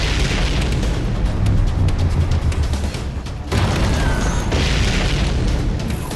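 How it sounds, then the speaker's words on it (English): Heavy explosions and booming gunfire from a firefight in the fighting game Guilty Gear Strive, a loud dense barrage that rumbles without pause, with a brief dip midway before it surges again. "We seem to be witnessing a firefight on the perimeter of the White House"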